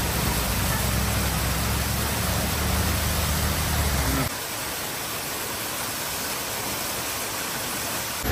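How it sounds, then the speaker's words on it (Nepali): A steady, broadband rush of falling water at Bahubali falls fills the scene. It sounds loud and close, with a low rumble in the first half that drops away midway. "अहिले चाहिँ हामी यहाँ बाहुबाली झरनामा छौँ"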